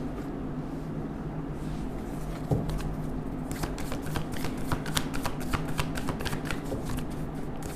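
Tarot cards are shuffled and drawn by hand, a soft rustle at first, then a rapid run of crisp flicking riffles up close, with no speech.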